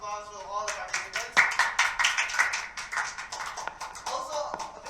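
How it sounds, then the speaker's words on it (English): Clapping from a small audience at a kids' public speaking showcase, a steady patter of hands of moderate loudness, with a voice trailing off at the start. "a big round of applause to all the participants"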